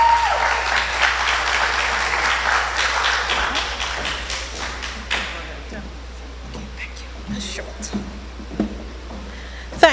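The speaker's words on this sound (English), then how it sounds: "I want you to welcome her on the stage with a round of applause" A crowd at a pre-budget consultation in Tableland gives a speaker a warm round of applause, loud at first and tapering off over about five seconds before a voice begins speaking.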